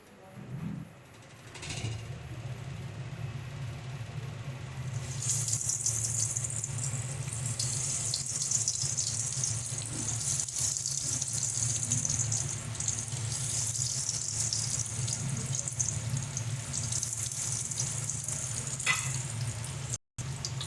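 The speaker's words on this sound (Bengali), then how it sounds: "এবার আমরা এর মধ্যে কাটলেটগুলো ভেজে নিচ্ছি" Banana flower cutlets frying in hot oil on low heat make a steady, broad sizzle that swells after the first few seconds and holds for the rest, with a low hum underneath and brief quieter moments at the start.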